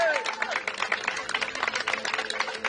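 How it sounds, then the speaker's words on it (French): A crowd applauds the third-place female finisher of the Diagonale des Fous ultra-trail race with dense, steady clapping mixed with a few voices. "j'aimerais vraiment qu'on l'applaudisse bien fort"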